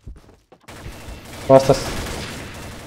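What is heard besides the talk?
gunfire in the video game Combat Arms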